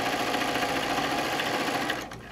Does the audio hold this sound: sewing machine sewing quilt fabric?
yes